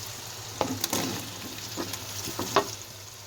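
Potatoes tumble into frying masala in a karahi for a dhaba-style aloo karahi. A soft background sizzle is broken by sharp clinks and scraping stirs, with the sharpest clatters early and near the end.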